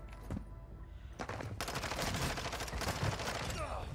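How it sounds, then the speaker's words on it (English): Rapid bursts of automatic gunfire in Warzone 2, the video game, loud and near, with shots rolling into a continuous fusillade for most of the stretch after a couple of brief opening cracks. "So I'm shooting over to my left side here."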